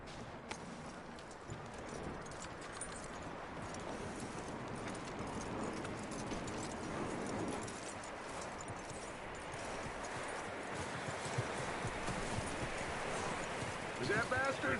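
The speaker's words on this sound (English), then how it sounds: "That looks like a decent horse." Horse hooves clip-clop steadily in Red Dead Redemption 2, a dense continuous rhythmic clatter with tack jingle, mid-distance and moderately loud throughout, with in-game speech mixed in.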